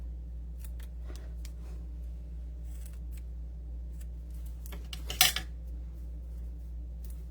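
Scissors snip ribbon for handmade Christmas cards in a quiet room, a few faint light cuts followed by one sharper, louder snip near the end over a low steady hum.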